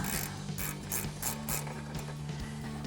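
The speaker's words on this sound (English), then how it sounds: "I'm going to take my 12mm ratcheting wrench" A 12mm ratcheting wrench works a brake caliper bolt on a 1999-2004 Mustang, a steady run of close, sharp ratchet clicks in even strokes, fairly quiet, with no talk.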